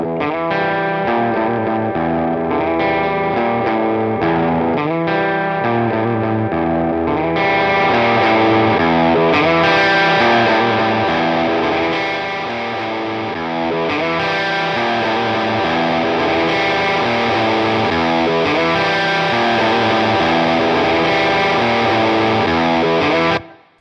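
Electric guitar run through a Fender Hammertone Distortion pedal with the gain turned up, playing continuous chords and riffs with a loud, saturated, fizzy top end, close and steady for the whole stretch with no talking.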